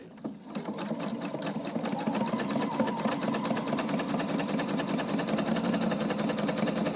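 A sewing machine stitches a fabric face covering, running steadily with a fast rhythmic needle chatter that starts abruptly and continues close and loud throughout, with no voices.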